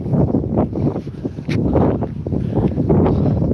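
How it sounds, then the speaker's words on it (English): Strong wind on a seaside walk in Withernsea buffeting the microphone, a loud steady rumble with gusting surges throughout, no voices. "It's really, really windy."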